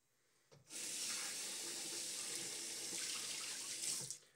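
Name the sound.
water running from a tap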